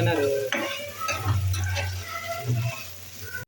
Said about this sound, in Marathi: मिडियम भाजूचो कांदो तर तो भाजून घेता